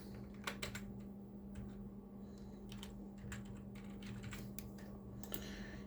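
Light, irregular tapping of a computer keyboard in a quiet room, short bursts of keystrokes over a low steady hum, no voices.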